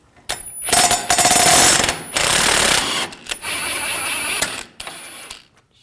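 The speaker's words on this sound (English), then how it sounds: "Underneath, we're going to take this bolt out for this front lower control arm." An 18mm socket tool works a front lower control arm bolt on a 2007-2013 BMW 328i 3.0L L6, giving loud, harsh, rattling mechanical bursts that start and stop several times with brief gaps between them.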